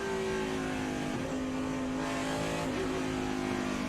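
A NASCAR Cup stock car engine at the 2006 Sonoma road course (Infineon Raceway) roars steadily with quick gear shifts, a loud sustained drone with brief pitch dips as the gears change, no talk.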